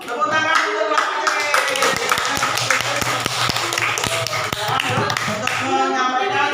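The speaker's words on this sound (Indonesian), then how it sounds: "Tepuk tangan untuk kelompok C" Classroom group clapping as group C is called forward during a teaching-practice session, a dense burst of hand claps over a continuous hum, with a voice talking underneath.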